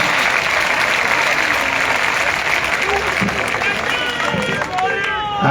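Crowd at a Rajasthan election rally claps in a dense, sustained round of applause, steady and fairly loud throughout, with a voice speaking over it toward the end.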